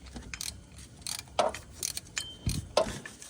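Socket ratchet on a long extension loosening a bolt, with scattered clicking and clattering metal strokes that sound close and fairly quiet. No voices are heard.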